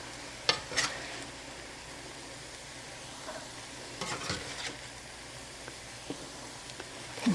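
Chicken fried rice and egg scraped and scooped out of a hot frying pan over a soft steady sizzle, with scattered scraping strokes and light utensil taps.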